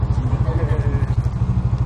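A Raider 150 Fi motorcycle engine running at a steady idle, loud and close, with a fast even pulsing throb and a voice speaking briefly over it.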